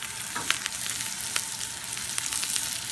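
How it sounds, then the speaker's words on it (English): Onions stir-fry in a pan with a steady, close sizzle broken by light clicks and scrapes of stirring, with no voices. "we're gonna stir fry the onions for like a minute"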